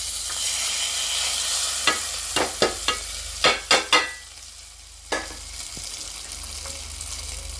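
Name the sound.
hot tempering added and stirred into chutney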